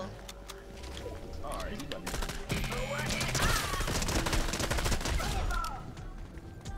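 Rapid bursts of gunfire ring out in a video game firefight, dense and continuous under overlapping chatter from players talking.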